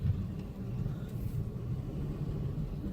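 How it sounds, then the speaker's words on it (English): A 1984 Mercury car, recently started after sitting for three months, driven at low speed while being turned around, giving a steady low engine rumble throughout, fairly close and moderately loud with no talk. "I gotta turn the car around"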